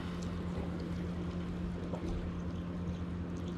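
Gasoline pours steadily into the fuel tank of a four-stroke outboard engine aboard a performance cruising catamaran, a continuous gurgling liquid flow over a low engine-like hum, even and moderately close throughout.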